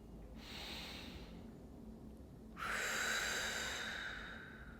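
Slow, deep breaths during a gentle seated mobility exercise: a soft inhale followed by a longer, louder, airy exhale, close and steady with no talking.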